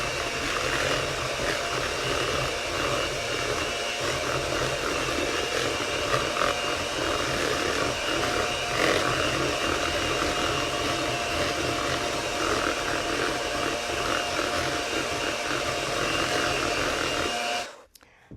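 An electric mixer whirs steadily through apple cider donut cake batter, a continuous close motor buzz that runs unbroken for most of the time before cutting off abruptly at the end.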